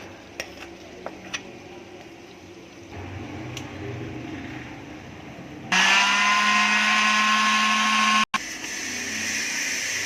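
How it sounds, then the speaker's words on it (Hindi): Electric blender grinding dry spices with fried onion for chicken masala, a loud steady whirring motor that starts abruptly partway through after quieter kitchen noise, pausing briefly before resuming. "ये तमाम स्पाइसेस ड्राई स्पाइसेस हैं, मैं इसमें शामिल कर रहा हूँ और इसके साथ ही मैं इसको ग्राइंड करूँगा मसाले के साथ"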